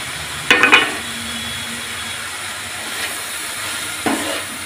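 Cabbage and capsicum being stir-fried in a wok give a soft steady sizzle, with a few sharp scraping stirs near the start and again toward the end.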